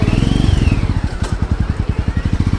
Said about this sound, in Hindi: अन्नू को बाइक चलानी है